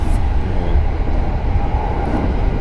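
A steady low rumble from inside a moving train in rural Japan fills the whole stretch, constant and fairly loud, with no voices over it.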